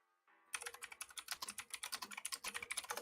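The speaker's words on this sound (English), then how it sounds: "lot of typing." Rapid typing on a computer keyboard, a dense run of close, crisp key clicks in quick irregular rhythm after a brief quiet start.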